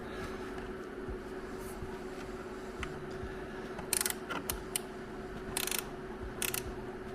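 Short wrench working the bolts of a side panel on a third-generation KLR650 motorcycle, giving a few sharp metallic ratchet clicks and taps at close range over a steady mechanical hum, with no talking.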